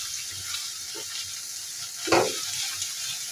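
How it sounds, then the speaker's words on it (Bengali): Egg fries in a pan for egg fried rice, a steady close sizzle with a brief scrape of stirring and one louder burst of crackle partway through. "তো এখন ডিমটাকে আমি ভালোভাবে ভেজে নেব।"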